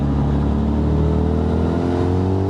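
Honda CB1000 Hornet SP motorcycle engine revving hard under throttle, a loud, close, continuous roar climbing steadily in pitch.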